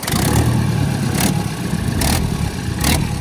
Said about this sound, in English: So it has got a bad blow on the exhaust there